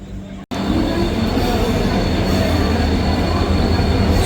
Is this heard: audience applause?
no